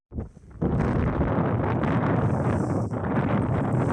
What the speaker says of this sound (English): Can you see it? And hear it? The wind and the snow.